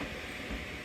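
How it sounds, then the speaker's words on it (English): Cat-themed train on the Kishigawa line at Wakayama, heard as a steady rumble of rolling rail cars, fairly loud and continuous with no voices. "one of the cat-themed trains that run on the line"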